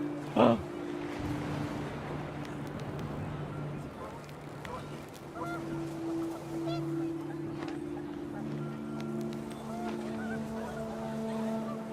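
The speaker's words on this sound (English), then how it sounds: "The wind picked up, and panicked geese appeared and quickly went." Panicked geese in the video game What Remains of Edith Finch honk in short bursts over a steady windy, droning backdrop, with a brief sharp sound near the start and scattered calls later.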